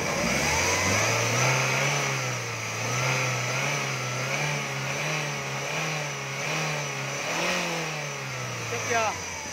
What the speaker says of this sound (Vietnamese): Máy nổ êm cực kỳ.